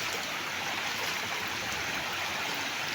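A freshwater stream flows out of a cave in Bulacan, giving a steady, dense rushing of water that fills the whole stretch at an even level, close by and unbroken, with no voices over it.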